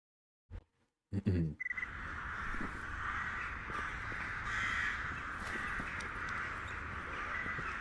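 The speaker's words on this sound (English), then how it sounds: "Beautiful sound of birds in the morning." A dense chorus of crows cawing fills a morning outdoor scene in a game, steady and fairly distant after a brief sound at the start.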